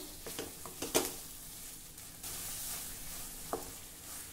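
Okra seed paste sautéing in a pan for a seed amti hisses quietly and steadily, with a few brief clinks and scrapes of stirring early on and one more near the end, no talking.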